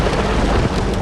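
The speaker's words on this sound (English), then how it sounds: "a giant swirling thunderstorm is rolling in" A giant swirling thunderstorm rolling in ahead of a tornado near Dallas–Fort Worth, heard as a steady, dense wash of heavy rain and wind noise with low rumbling, broad and continuous throughout.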